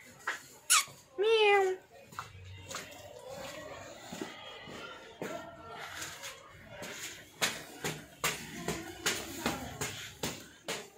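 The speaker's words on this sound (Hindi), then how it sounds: "तो सामने बिल्ली है।" A cat meows on a busy street in Chandni Chowk, Delhi, with a couple of close, rising meows early on, then scattered clicks and street noise.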